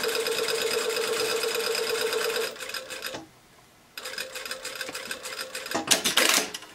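A sewing machine runs a basting stitch on fabric for a welt pocket with a flap, a fast steady mechanical whir that pauses briefly, then resumes in shorter bursts, close and clear with no talking.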